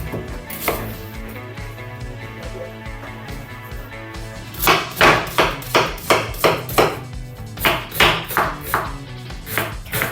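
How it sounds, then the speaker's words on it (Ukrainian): A knife chops onion and carrot steadily against a cutting board, a run of quick, even strikes starting after a quieter few seconds with a low background hum. "Можна не дуже сильно мілко це все нарізати"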